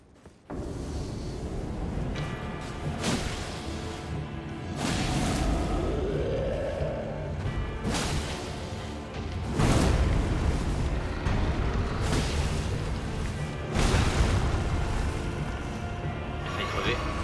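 A lightning spell is cast repeatedly in the video game Elden Ring, with several loud crackling bursts at fairly regular intervals among booming impacts and game effects.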